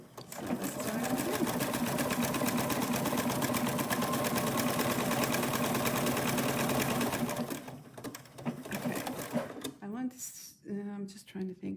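A sewing machine runs steadily while stitching appliqué on a quilt block, a loud, even motor whir for about seven seconds before it stops; then brief handling noises and someone speaking follow.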